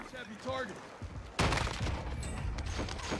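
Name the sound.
gunfire in video game Call of Duty Warzone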